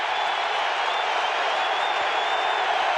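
Dense, sustained roar of a football stadium crowd at a 2006 Cowboys–Falcons NFL game, loud and steady throughout with a faint whistle-like tone riding on top, no distinct voices standing out.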